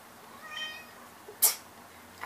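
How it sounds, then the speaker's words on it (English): Pet cat meowing indoors, one drawn-out meow followed by a sharper, louder cry and a brief faint call at the end, close and clear with no talk over it. "My cat's trying to get out."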